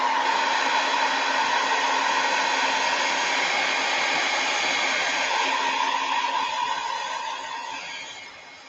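A hair dryer blows steadily to dry wax on a craft project, a loud continuous whirring rush that holds even for most of the stretch before easing off slightly near the end, with no talking.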